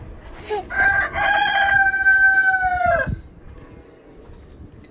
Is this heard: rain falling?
no